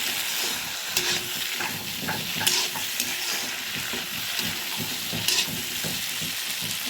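Duck meat sizzles and fries in a pan on a gas flame while a spoon stirs it. The frying hiss is steady, and scraping stir strokes and faint clinks recur throughout at a close distance.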